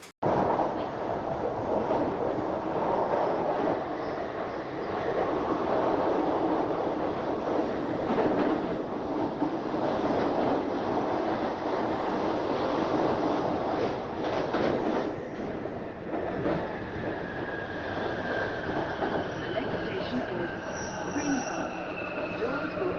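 A London Underground train runs steadily for the whole stretch, a continuous broad rumble and rattle with wheel-on-rail clatter and a thin high squeal rising near the end, close and unbroken.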